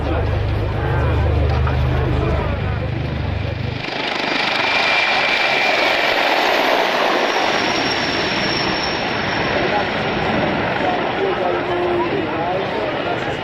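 A loud, continuous Hind attack helicopter roar with whining turbine tones, dominating throughout; a low rumble drops away after the first few seconds.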